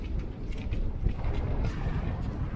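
Wind buffets steadily with a low rumbling roar, gusting unevenly throughout, on a Finnish fell hike toward Sokosti.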